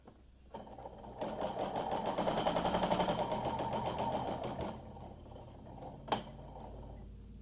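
Sewing machine running steadily as it stitches binding onto a quilt edge, a loud continuous whir for several seconds that then stops, followed by a brief click.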